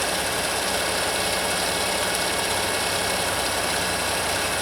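A 2014-2018 GMC Sierra 4.3L V6 engine idles after a water pump replacement, giving a steady, even hum that runs unchanged throughout with no voices.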